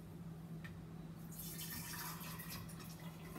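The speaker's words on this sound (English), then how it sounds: "when I get about this much in the bowl, I pour it into the mason jar" Orange juice is poured from a bowl into a mason jar, a soft, close splashing trickle that begins about halfway through and continues quietly over a low steady hum.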